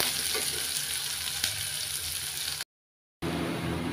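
Onions fry in a pan toward golden brown with a loud, dense, even sizzle close up, broken by a brief silent gap before the frying resumes.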